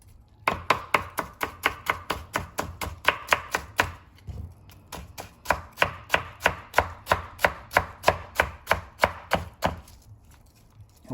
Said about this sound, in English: you julienne them into matchsticks like so